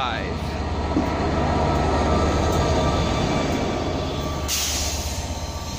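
A pair of noisy Pacer diesel trains rumbles through Manchester Piccadilly station with a steady, loud engine drone and rail noise, and a brief high squeal near the end.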